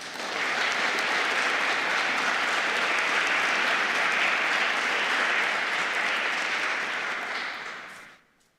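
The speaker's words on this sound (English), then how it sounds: "Let's welcome her with warm applause." Applause from a conference audience welcoming a speaker onstage, a dense and even roar of many hands clapping that holds for about eight seconds, then quickly tapers to silence.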